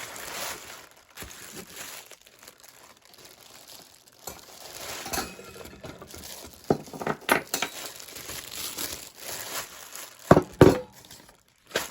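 Plastic packaging is pulled off the parts of a hanging spinning display and crumpled by hand, giving a steady close crinkling with a few sharper rustles and clicks.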